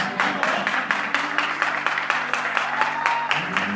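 A concert audience at a tribute claps in unison, a loud steady rhythmic beat of many hands that carries right through, with a faint sustained tone in the background.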